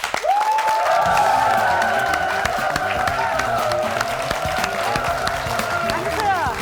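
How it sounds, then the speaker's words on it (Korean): A studio audience on a KBS talk show claps steadily to welcome a guest, the dancer Shin Young-hee, with broad continuous applause under a sustained tonal music cue and voices in the background. "여러분 박수로 환영해 주시죠"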